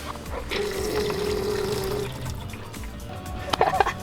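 A brand new portable camping toilet at a family campground being flushed, with a steady watery rush and trickle lasting a couple of seconds, followed by a brief clatter near the end.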